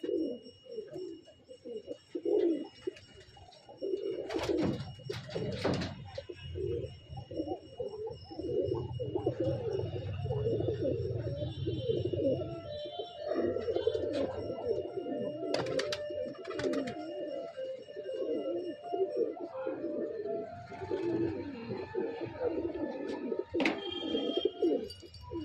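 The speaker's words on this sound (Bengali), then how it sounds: "এখানে যা আছে সবই নর পায়রা।" Male pigeons of Andhra, Madras and Malabai breeds coo in a loft. The soft, throaty calls are close and almost continuous, overlapping one another with no talk.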